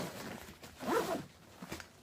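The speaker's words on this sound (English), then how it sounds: "this thing's nice because it zips like all the way down so you can get to everything" A carry-on bag's pocket zipper is pulled open in one short, fairly quiet zip near the middle, with faint background room sound on either side.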